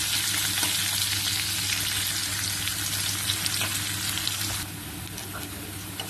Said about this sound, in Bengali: শুধু সামান্য হলুদ দিয়ে উচ্ছেগুলো দু পিট লাল লাল করে আমি ভেজে নেব